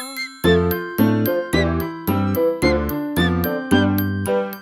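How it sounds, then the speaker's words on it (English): Chiming bells in a cartoon nursery-rhyme song, a bright, regular sequence of ringing tones, about one strike per half second, clear and close. "Morning bells are ringing, morning bells are ringing."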